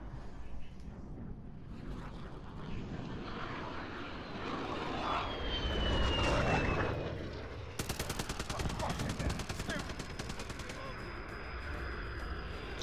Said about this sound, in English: Enemy VTOL.